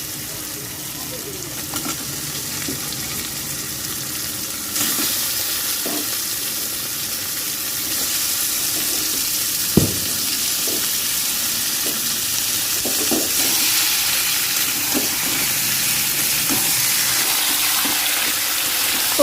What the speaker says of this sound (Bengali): এখন কিন্তু আমি মাংসটা তুলে দেবো এর উপরে।